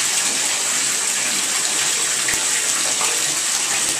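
A leaking shower sends water steadily down onto a bathroom floor, a constant loud hissing rush that continues without pause.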